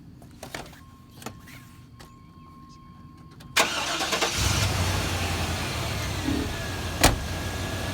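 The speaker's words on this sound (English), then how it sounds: "So now what we want to do is cut the motor on." A car engine cranks and catches partway through, then keeps running at a steady idle close by, after a quiet stretch with faint clicks and handling noises.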